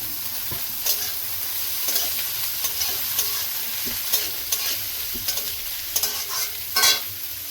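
Carrots, beans and capsicum frying with onion in a pan, a constant bright sizzle with scraping stir strokes and occasional louder hisses, close and alone without talk.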